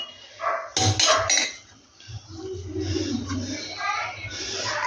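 Rice and lunch are served onto a plate at home, with a quick burst of loud clinks and clatter of dishes and utensils, then softer handling and scraping sounds.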